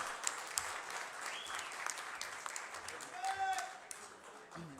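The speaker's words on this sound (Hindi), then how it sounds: "भरपूर तालियां।" Applause from a gathering of an alliance group before lunch, a fairly quiet, distant patter of many hands that rises a little toward the end, with voices heard faintly over it.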